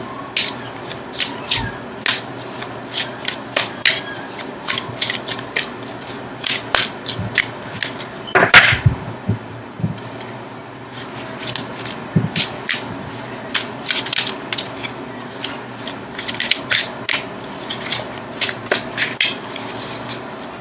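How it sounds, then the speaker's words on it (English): Tarot cards are shuffled by hand in a series of crisp riffling and slapping bursts that repeat steadily for about twenty seconds, close and fairly loud, with a brief louder knock near the middle. "now I'm going to shuffle for an outcome card"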